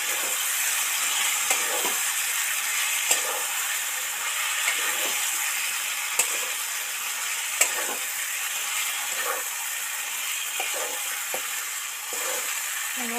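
Boiled mutton sizzling steadily in hot spiced oil for a Bengali mutton curry with potatoes, a continuous close frying hiss with occasional soft stirring clicks.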